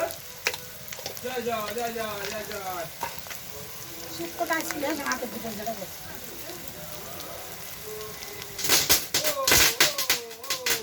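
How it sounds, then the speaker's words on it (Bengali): Capsicum pieces fry in a kadai for chilli chicken with a steady crackling sizzle and repeated stirring scrapes, while a voice talks over it. A burst of louder spoon clatter comes near the end. "ক্যাপসিকাম টুকরোগুলো লাল লাল করে ভাজা হয়ে গেছে।"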